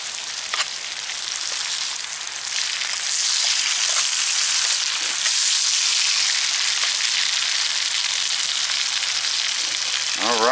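Thin potato slices fry in a pan with a steady, bright sizzle and a constant crackle, close by and unbroken, with only faint scraping under it.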